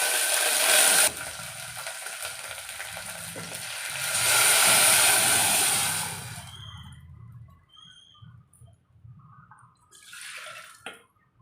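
Curry leaves drop into hot oil for a Telugu dal stew, a loud bright sizzle that swells, holds for several seconds, then fades to faint crackles, with a brief burst of hissing near the end.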